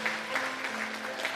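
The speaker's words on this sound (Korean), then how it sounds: "박수로 격려해 주세요." A church congregation claps during a Sunday service to welcome new members, soft and somewhat distant applause with a faint sustained tone from the room underneath.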